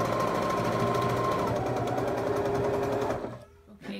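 A sewing machine stitches fabric strips together, a fast, steady mechanical rattle that runs for about three seconds and then stops, followed by faint handling sounds.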